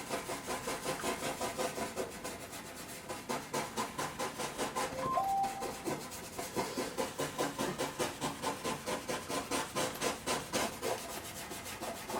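A bristle brush rubs in steady circles over a drawing, making a rhythmic scratchy swish that repeats about twice a second, close and continuous, with no voices.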